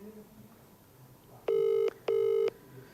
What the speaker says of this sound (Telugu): ఎస్, రింగ్ అవుతుంది.